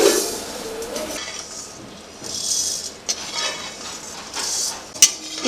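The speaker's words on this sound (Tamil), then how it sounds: "இப்போ இந்த உளுந்து வந்து நல்லா நம்ம தீய விடாமல் சிகப்பாக நல்லா வறுத்துக்கணும்." Urad dal roasting in a pan for murukku, with bursts of dry rattling and scraping as the lentils are stirred and a couple of sharp metal clinks, close by with no talk.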